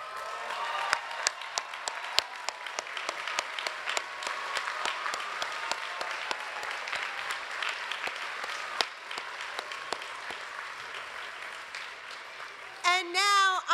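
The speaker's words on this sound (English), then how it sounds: "Now I ask all students who are graduating magna cum laude to stand and be applauded" A graduation ceremony audience applauds with steady, dense clapping that holds for a long stretch before a voice begins speaking at the very end.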